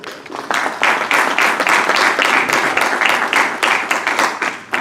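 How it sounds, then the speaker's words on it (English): Audience applause at a Virginia Wesleyan morning event, a dense steady wash of many hands clapping that fills the room for nearly five seconds and fades slightly at the end. "Can you get a round of applause?"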